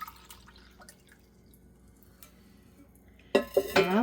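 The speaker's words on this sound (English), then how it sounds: "I'm going to go ahead and pour some in a cup." Turkey tail mushroom tea decoction poured into a cup, a short bright splashing pour arriving near the end after quiet faint clinks and drips.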